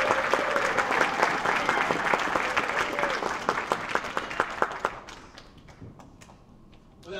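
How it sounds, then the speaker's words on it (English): Audience applause for a sixth grade orchestra at a school concert: dense clapping fills the room for about five seconds, then thins out to a few scattered claps and fades. "a round of applause for the most important people in this room, our sixth grade orchestra"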